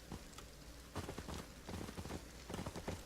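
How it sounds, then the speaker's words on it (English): Rain falls steadily in the Ylands video game, a dense patter over low rumbling, with scattered brighter taps and soft thumps like hooves or footsteps mixed in. "let's add on to the animations with some rain."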